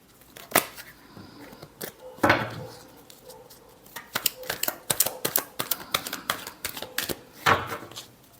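Tarot cards being shuffled by hand, a run of crisp riffling snaps and soft flicks, close and fairly loud, with short bursts separated by brief pauses.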